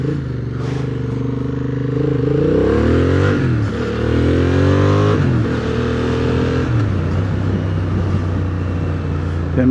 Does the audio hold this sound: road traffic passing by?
yes